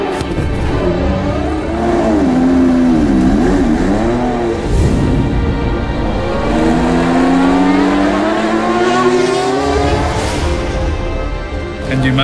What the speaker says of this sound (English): Racing with this car in Monaco.